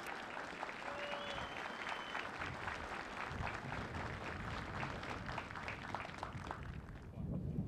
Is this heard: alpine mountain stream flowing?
no